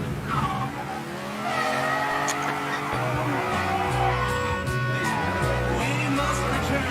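A car drives and skids in a video game, its engine tone sweeping up and down in layered pitches while sustained tire screeches ride over it, loud and continuous.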